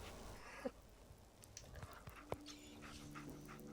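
The dog companion from the video game Fallout 4 gives a few short, soft yips and pants over steady game ambience, with two brief sharper sounds standing out.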